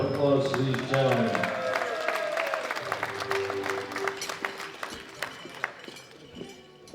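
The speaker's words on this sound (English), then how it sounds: "Big round of applause to these gentlemen." Audience applause at a world classic powerlifting championship awards ceremony, a dense crowd clapping that gradually thins out, with voices and cheering mixed in.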